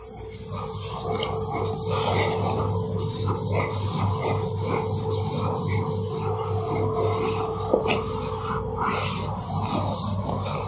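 A duster rubs chalk writing off a classroom board during a physics lecture, giving continuous rhythmic scraping strokes, loud and close, with a steady hum underneath.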